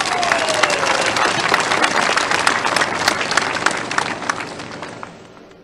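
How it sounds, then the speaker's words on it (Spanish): An audience applauds loudly at the inauguration of an industrial lithium carbonate plant, dense clapping that holds steady and then fades near the end. "Para él un fuerte aplauso,"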